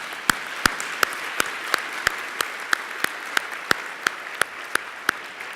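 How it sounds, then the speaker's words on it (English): Applause at a tech conference keynote, here heard as a single pair of hands clapping in a steady, evenly spaced rhythm, fairly close and alone over a soft room hiss. "Let's just give them a round of applause."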